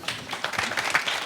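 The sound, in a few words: audience applause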